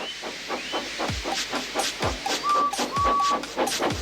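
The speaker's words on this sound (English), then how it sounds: "So they lit his fire, made lots of steam, and Edward puffed away." A steam locomotive puffs in a steady rhythm of exhaust beats, with a continuous hiss of steam, sharp whistle-like squeals and low thumps, heard fairly close and without talk.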